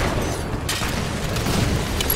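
A loud, muffled boom of a grenade exploding in a sci-fi shooter game, a dense rumbling burst that fills the whole brief moment with no talking over it.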